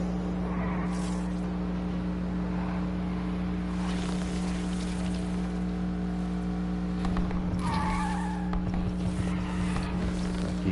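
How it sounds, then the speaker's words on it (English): A car engine in the racing game Need for Speed Unbound drones continuously and loudly, with audible shifts in pitch as gears change and the engine revs rise and fall. "You can hear the car shift."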